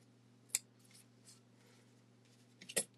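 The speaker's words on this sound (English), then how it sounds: "I'm just going to use my scissors to hand cut this." Two crisp scissor snips, one early and a sharper cluster near the end, hand cutting quilt block fabric up close over a quiet electrical hum.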